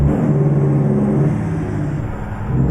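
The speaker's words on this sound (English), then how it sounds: "Remember I said my Peterbilt didn't sound like a Peterbilt? We don't have that problem no more." A Peterbilt truck engine in American Truck Simulator drones with a deep, steady rumble and a slight rise and fall in revs, loud and close throughout.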